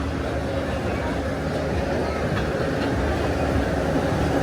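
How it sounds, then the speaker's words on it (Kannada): A train approaches a station as a steady, broad rumble and hum that stays fairly loud throughout, with voices faintly audible over it. "ಇವಾಗ ಬರ್ತಾ ಇದೆ ಟ್ರೈನ್."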